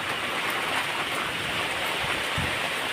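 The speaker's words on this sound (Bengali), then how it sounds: "এত ঝড় বৃষ্টি," Heavy rain pours steadily during a Kalbaishakhi storm, a dense, constant close hiss of water on surfaces with no voices.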